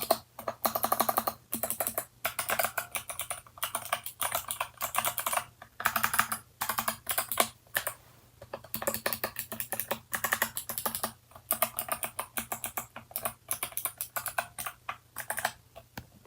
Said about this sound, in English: Here's a quick sound test of just the keys.